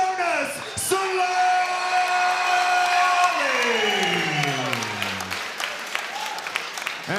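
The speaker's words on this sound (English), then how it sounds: "Make some noise for Jonas Solari" A crowd at an MMA fight event applauds and cheers beneath an announcer's loud, drawn-out introduction, with the cheering swelling as the call fades.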